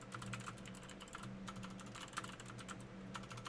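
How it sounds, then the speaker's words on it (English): Rapid, uneven keystrokes clatter on a computer keyboard, close and steady throughout, over a faint low room hum. "Oh my goodness, my typing."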